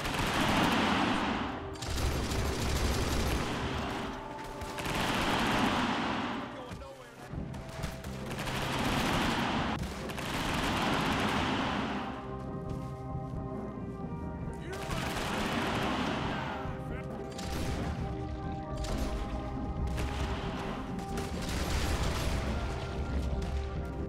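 A fully automatic modded rifle in Red Dead Redemption 2 combat fires long rapid bursts with brief pauses between them, loud and close, with sharp mechanical clatter and ringing tones in between.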